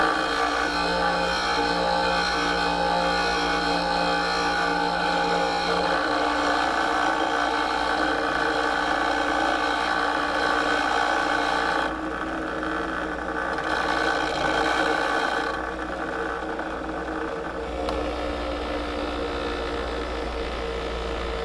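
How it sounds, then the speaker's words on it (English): Steady hum of a bench sharpening grinder as the wing of a woodturning tool is ground, the motor droning evenly with a slight shift in tone partway through, no talking. "I'm going to grind the wing."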